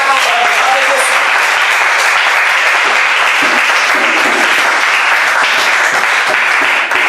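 A church congregation applauds the Lord at once, dense and loud, the sustained clapping of a large crowd pouring on without a break from start to finish, with voices faintly mixed into the wash.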